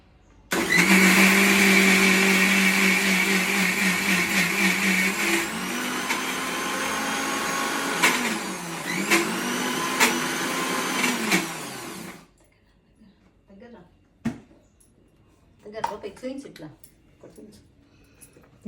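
A mixie blender whirs loudly as it churns curd into butter, its motor pitch shifting as the contents thicken, running about twelve seconds before cutting off. A person then talks in the quiet that follows.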